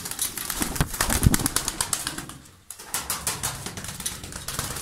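Tumbler pigeons in a loft, with rapid clattering wing flaps repeating in bursts, close and loud, a brief lull midway before the flapping resumes; no talking.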